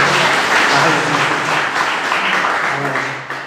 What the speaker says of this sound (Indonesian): Yang percaya, kita berikan tepuk tangan